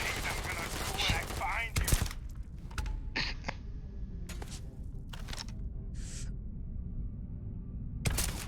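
Gunshots in Starfield: a handful of sharp, separated shots spaced across a quiet stretch, with low background noise between them and faint clicks and movement.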